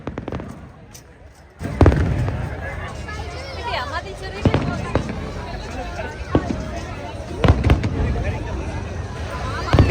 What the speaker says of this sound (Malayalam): കുറച്ച് നേരം ഫയർ വർക്കും കാര്യങ്ങളൊക്കെ കണ്ട്